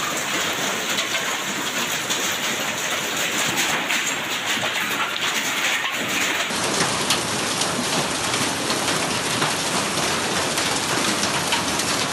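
Steady rain mixed with hail pours down in Islamabad, a dense, continuous hiss and patter of drops and ice striking surfaces, loud and unbroken throughout.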